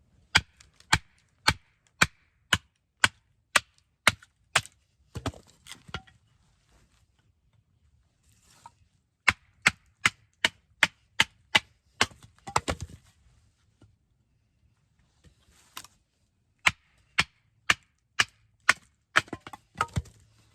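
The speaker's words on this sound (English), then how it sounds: "And here we have a piece of oak and do a little bit of batoning with it." Very Good Knife Co Adventure fixed blade with a full flat grind in EDC V2 steel being batoned through a piece of oak: sharp, evenly spaced wooden cracks of the baton striking the spine, in several runs with brief splitting crunches between.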